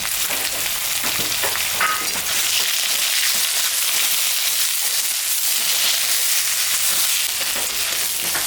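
Onion sliding into hot oil with already fried potatoes after a cumin and dried red chilli tempering, a loud steady broadband sizzle with light stirring scrapes running unbroken throughout.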